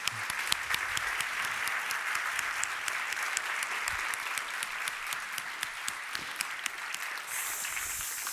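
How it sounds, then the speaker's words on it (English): Sustained applause from a conference audience for a keynote speaker, a dense patter of many hands with some sharp individual claps, steady and moderately loud throughout. "a big hand of applause to my"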